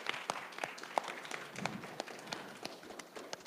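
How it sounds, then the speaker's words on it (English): A small audience at a 2019 student senate candidate Q&A claps for the candidates and community members. The clapping is scattered and sparse, with separate sharp claps rather than a dense roar, and it stays moderately quiet throughout. "I'd like to give a round of applause to the community members who attended today and asked questions."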